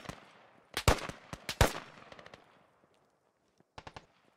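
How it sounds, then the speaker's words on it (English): Gunfire at a spawn point in the game Squad: two sharp bursts of automatic fire with rolling echo, then a short distant burst after a quiet gap. "That spawn point we just came from is getting shot up."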